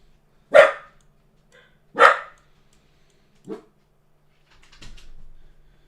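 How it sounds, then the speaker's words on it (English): A dog barks three times indoors, each a short sharp bark spaced about a second and a half apart, close and fairly loud, with faint rustling afterward. "What are you barking at?"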